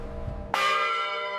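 A single San Francisco bell strikes once with a sharp clang and then rings out in a long, sustained metallic hum, moderately loud over a faint room murmur.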